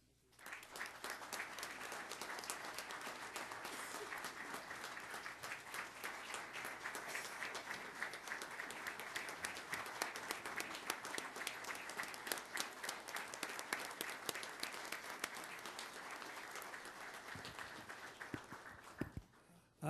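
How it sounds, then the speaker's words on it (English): A county legislature chamber breaks into applause for the Badge of Honor Association, sustained, even clapping from a sizable crowd lasting nearly twenty seconds before stopping abruptly. "thank you very much for that round of applause"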